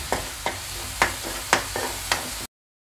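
Ground masala being sautéed and stirred in a hot pan for a spicy Maharashtrian rassa vada curry, with a steady frying sizzle and five or six rhythmic scraping stirs, close and moderately loud, then sudden silence.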